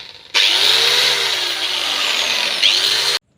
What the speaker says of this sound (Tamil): பேக் சைடு டைலில் ஹோல் பண்ணி பார்ப்போம்